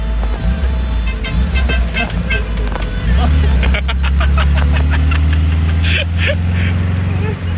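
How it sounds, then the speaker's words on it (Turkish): Loud road traffic with an engine rumbling close by and a car horn tooting three times, while voices chatter over the noise, in Eskişehir. "Üç korna. Bak."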